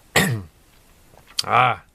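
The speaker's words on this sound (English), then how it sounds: "I have not coughed at all this entire day, and then I have to do it just now" Two sharp coughs or throat-clearing bursts about a second apart, close and fairly loud, from a person painting a wild horses picture at home.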